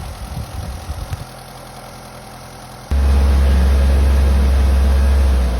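Mitsubishi Grandis 4G64 engine after a top overhaul: a rough idle with a brief knocking burst, a quieter lull, then a sudden loud rev that holds high and steady to the end.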